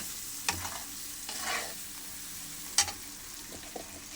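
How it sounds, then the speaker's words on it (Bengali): Eggplant being stirred with spices in a frying pan, a few scraping strokes of a utensil over a steady low sizzle, close and alone. "এবারে আমি একটু নেড়ে নেব, নেড়ে ছেড়ে বেগুনটাকে একটু করে নেব।"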